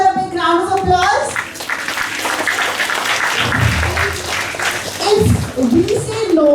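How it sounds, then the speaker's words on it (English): Children's school assembly audience applauding for a pupil on International Tiger Day, a continuous clatter of many hands clapping, with voices and children's chatter mixed in. "give her a big round of applause"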